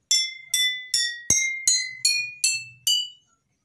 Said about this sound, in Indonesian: saya akan mengetuk botol ini.